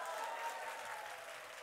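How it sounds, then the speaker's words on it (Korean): Audience applause at an evening children's summer Bible school church service, a steady wash of clapping that holds at an even level for under two seconds with no voices. "이 정도 하면 박수 한번 나와주시죠"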